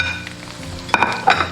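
Pork ribs coated in golden sugar glaze stir-fried with garlic and aromatics in a wok for sweet and sour garlic ribs, a steady close sizzle with a couple of clinks and stirring scrapes.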